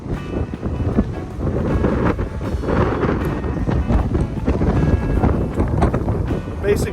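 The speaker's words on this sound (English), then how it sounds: "It's surprisingly warm, but it's really windy" Strong, steady wind buffets the microphone outdoors near a bridge-viewing park in Brunswick, Georgia, a loud low rumble that roars continuously through the whole stretch with gusty swells and no speech.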